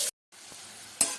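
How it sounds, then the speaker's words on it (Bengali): Chopped onions fry with cumin in a pan, a short, soft sizzle broken by a brief gap and a couple of light stirring clicks. "পেঁয়াজগুলো বেশ ভাজা ভাজা হয়ে গেছে।"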